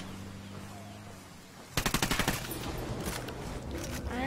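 Rapid automatic gunfire from the video game Ghost Recon breaks out after a quiet stretch, a burst of loud close shots followed by continued firing and echoing battle noise.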